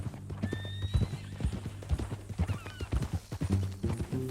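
Horse hooves clip-clop in an uneven, steady rhythm on a Red Dead Redemption 2 ride, with a horse's neigh rising near the start and distant background sounds around them.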